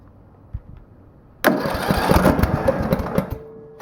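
A DR brush mower's engine fires after an electrical fix and starts running, a sudden loud catch following a soft thump, then a steady rough idle with throttle flutter close by.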